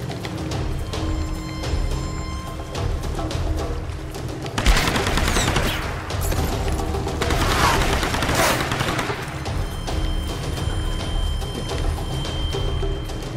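Sustained gunfire in Tomb Raider Definitive Edition: dense, overlapping bursts of automatic and single shots with booming impacts, loud and continuous throughout, with no talking.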